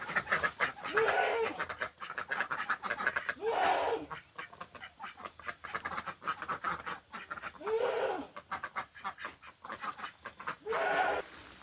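Chickens in a village garden cluck and call in repeated bursts over a steady patter of rain, the calls rising every couple of seconds.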